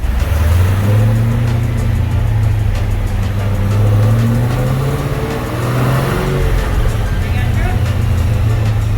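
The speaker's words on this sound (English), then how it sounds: "We're going to go through the gears a little bit." A Dodge Challenger Hellcat fitted with a 426 Hemi engine pulling through the gears around 4,000 RPM, a loud close exhaust roar whose pitch climbs, drops at each shift and climbs again, with a voice talking underneath.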